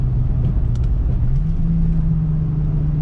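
A Lexus GS300 with a straight pipe exhaust accelerates through the gears, giving a loud, steady low engine drone whose pitch dips slightly at a shift and then climbs again, heard alone.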